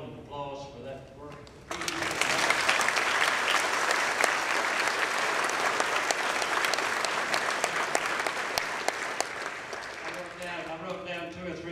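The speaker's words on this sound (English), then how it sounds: "all of you just join in applause for that work" Crowd at a school ribbon cutting ceremony bursts into loud, sustained applause that continues for several seconds, with a speaker's voice heard briefly before it starts and again as it fades.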